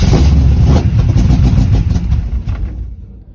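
A Chevrolet C10 sleeper truck engine revving hard, a loud, close, throaty roar with pulsing rises in pitch that then drops away and fades near the end.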